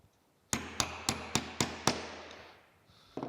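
A hammer strikes a metal punch to drive a pin out of a wooden chisel handle: six sharp, evenly spaced metallic blows, close and clear, followed by a quiet pause and a softer knock.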